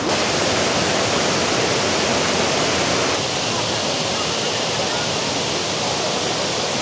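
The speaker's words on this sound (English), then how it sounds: "Here we are at Kuang Si Falls, about 30 minutes outside of Luang Prabang. And these falls are so beautiful." Kuang Si Falls near Luang Prabang, Laos, gives a dense, steady roar of falling water, loud and close throughout, with the level dropping slightly partway through and no audible talk over it.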